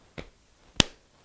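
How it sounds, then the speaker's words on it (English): Two percussive hits roughly 0.6 seconds apart, a softer slap of hands on legs followed by a sharper, louder hand clap, the start of a simple body-percussion beat for a preschool circle-time song; no talking. "you start by slapping your hands on your legs and then clapping"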